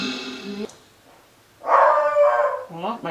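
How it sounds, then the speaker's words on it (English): A dog outside barks and howls in a few drawn-out, tonal bursts, fairly close and clear, separated by a quiet gap of over a second. "my dog's barking out there"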